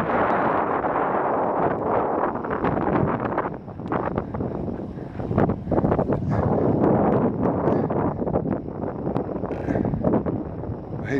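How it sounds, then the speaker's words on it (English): Gusty outdoor wind roars and buffets across the microphone, loud and continuous for the whole stretch with a few brief dips in strength. "It's getting windier."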